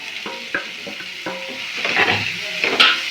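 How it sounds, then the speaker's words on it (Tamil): Capsicum sautés in a hot pan with chilli powder and garam masala for chilli bread, a steady sizzle punctuated by repeated spatula scrapes and taps close by. "வதக்கிட்டு அடுத்து குடமிளகா சேர்த்துக்குவோம்"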